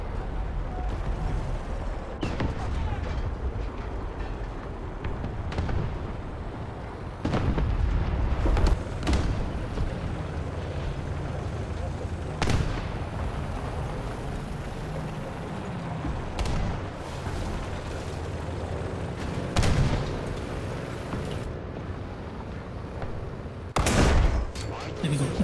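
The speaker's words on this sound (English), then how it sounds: "who is shooting me and where?" Gunfire and explosions in the War Thunder tank game: scattered sharp cracks and booming blasts at irregular intervals, some close and loud, others distant, over a low rumbling battlefield background.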